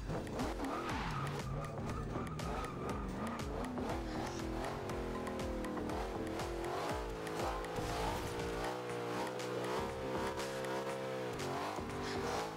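A car drifts at a car meet, its tires skidding in a long, continuous squeal with wavering pitch over a loud, steady engine roar throughout.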